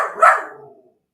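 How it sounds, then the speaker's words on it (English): A single short, close dog bark rings out clearly and fades quickly into silence. "This dog."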